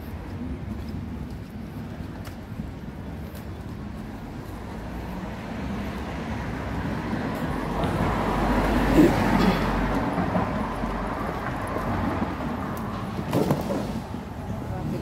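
Street traffic rumbles steadily at a roadside crossing, a broad continuous wash of passing vehicles that swells louder midway as something heavy goes by, with faint voices in the background.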